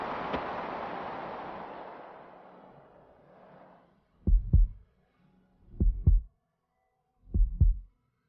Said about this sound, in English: That heartbeat.